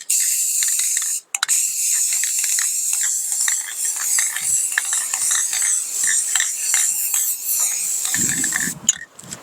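Spray paint can hissing onto a Ford D-150 truck hood in close, continuous bursts with brief pauses, a loud steady spray broken by short stops and small clicks.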